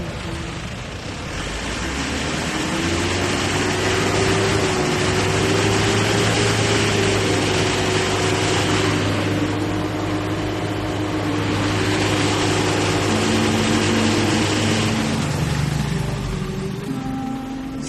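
Deux Crosswind engine revved after a carbon cleaner treatment, a steady drone whose pitch climbs and holds through two long revs before dropping back toward idle.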